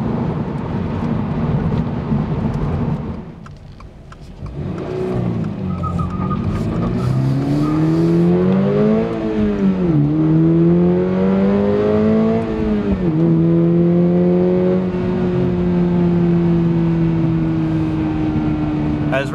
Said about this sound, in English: Going through the gears there, and I wasn't really getting any closer to this Toyota Sienna.